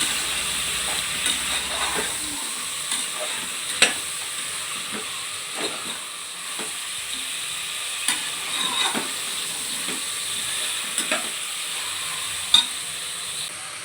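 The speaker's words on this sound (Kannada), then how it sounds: "ಟೊಮೊಟೊ ಚೆನ್ನಾಗಿ ಮೆತ್ತಗಾಗಬೇಕು, ಅಲ್ಲಿವರೆಗೂ ಹುರ್ಕೋಬೇಕು." Tomato and mutton fry in a pan, giving a steady soft sizzle broken by repeated stirring scrapes and clinks, close up and without talk.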